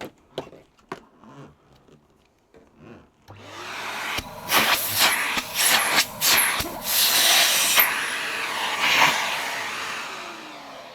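A Numatic vacuum cleaner starts up after some light handling clicks, then runs with a steady roaring whoosh and fluctuating suction as the nozzle is moved about, loud and close.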